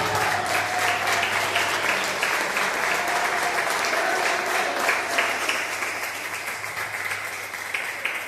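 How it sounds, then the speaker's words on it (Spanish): A church congregation at a women's congress claps loudly in praise to the Lord, a thick, continuous wash of many hands with a faint hum beneath and no talking over it. "dale fuerte ese aplauso al Señor"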